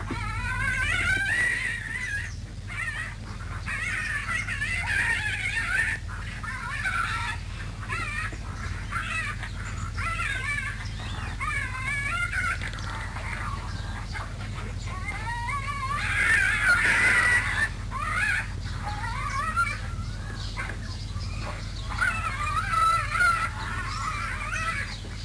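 Tasmanian devils call with harsh, screeching growls and raspy cries in repeated bursts over a low steady background hum, fairly close and continuous.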